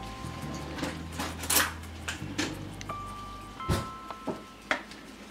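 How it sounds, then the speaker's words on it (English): Two forks shred cooked pork for tacos, producing soft scraping and clinking taps of metal against a dish in an irregular rhythm, close and fairly quiet, with no voices. "And just to shred, I just use a couple of forks. One to hold meat down and the other to shred it."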